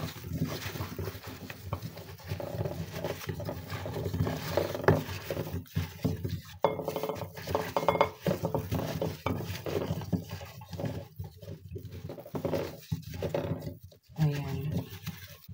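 Chicken for a creamy mustard mushroom dish being mixed by hand with paprika, black pepper, oregano and salt: soft, uneven clinks and wet patting and rustling that continue steadily under a person talking.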